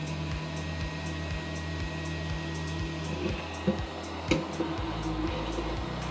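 Steady electric blower of an 858D hot air soldering rework station, a continuous whooshing fan hum held at close range with a few faint clicks and bumps over it, no voices.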